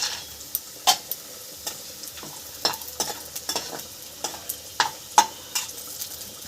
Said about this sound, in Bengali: বড়িটা ভেজে নিচ্ছি